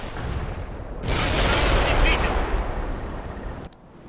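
A detonation in the World in Conflict war game bursts in suddenly as a loud, sustained roar of explosion and gunfire that lasts several seconds, then cuts off abruptly, with a faint electronic beeping partway through.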